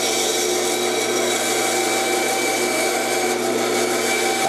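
Wood being cut and shaved down for a model dragster body makes a loud, unbroken machine roar with a steady high whine, close and constant throughout without pauses.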